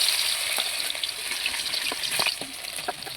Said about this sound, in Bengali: এবার কড়াইতে তেল দিয়ে মাছগুলো আমি ভালো করে ভেজে নেব।